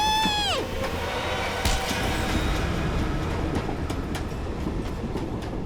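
Inside a moving train, a steady low rumble and rattle carries on with faint rhythmic clicks, following a brief falling whistle-like tone at the start.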